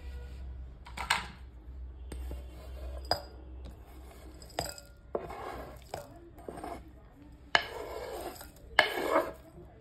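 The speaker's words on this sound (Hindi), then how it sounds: "मैं अपनी चॉकलेट को एक बाउल में ट्रांसफर कर देती हूँ।" Chopped homemade chocolate is scraped and tipped into a bowl in a home kitchen, giving scattered clinks, taps and knocks of utensils against dishes, with short bursts and quieter gaps between them.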